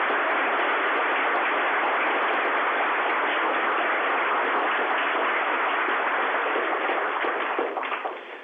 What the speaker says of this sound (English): if we could give our astronauts a round of applause for their time